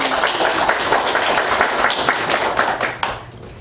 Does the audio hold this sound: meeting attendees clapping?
yes